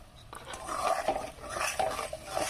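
Cashew spice paste is stirred in a pan for a vegetarian cauliflower and paneer dish, giving soft scraping and clinking of a utensil against the pan in short repeated strokes, close and fairly quiet.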